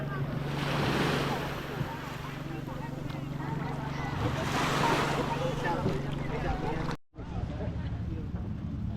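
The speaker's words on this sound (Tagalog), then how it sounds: "Ang lakas ng alon dito." Strong ocean waves at a beach roll in with a steady, loud wash and roar, with wind buffeting the microphone and a voice heard faintly in places.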